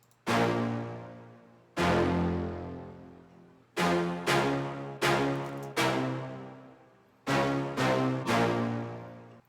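Sampled drum hits from a trap-style beat, seven sharp bright strikes in an uneven rhythm, each ringing out and fading before the next, loud and clean with no talking.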